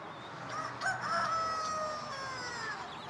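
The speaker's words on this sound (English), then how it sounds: "Are you selling those chickens and all?" Chickens at a roadside stall along Route 66, a rooster crowing loudly and clearly for a few seconds with faint clucking, no talk.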